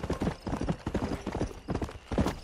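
Horse hooves clip-clop at a steady riding gait in Red Dead Redemption, an even rhythm of clear, close hoofbeats with no talking.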